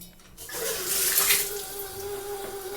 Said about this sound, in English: Kind of noisy plumbing, but shower head works good